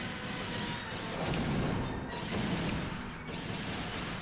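Blaster fire in a space battle in the Star Wars Shadows of the Empire video game, as a steady, dense barrage of shots and booming impacts under a constant roar, with no talk.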